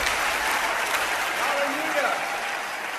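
A church congregation applauding at a Christmas service: dense, continuous clapping filling the room for several seconds, with voices calling out over it.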